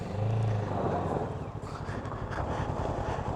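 A Kawasaki Ninja 650 motorcycle rides along a road, its engine a steady low drone under heavy rushing wind noise, loudest at the start and easing slightly later on.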